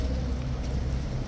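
King's Guard horses emerging, a rapid patter of hoof clip-clops on hard ground blending with low rumble and a talking voice throughout.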